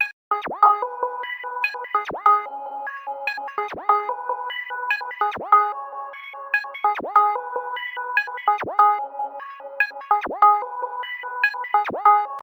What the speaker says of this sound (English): This is the pluck spending from the same remote kit. And I just had done some simple plucks with some shaper box on them.